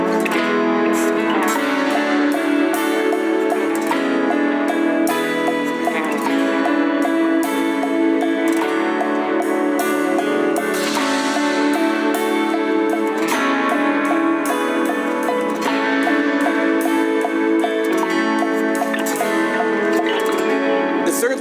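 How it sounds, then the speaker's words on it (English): Worship drum groove with a stick playing steady quarter notes on the ride cymbal while a mallet swells another cymbal, set under a full, continuous band of sustained chords, no talk. "Quarter notes on the ride with the stick and maybe eighth note cymbal swells with the weak hand with a mallet"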